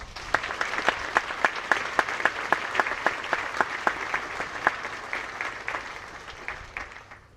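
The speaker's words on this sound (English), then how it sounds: "Let's also give them a round of applause." Steady audience applause at a high school commencement ceremony, moderately loud and distant, with sharp individual claps standing out from the crowd, fading gradually toward the end.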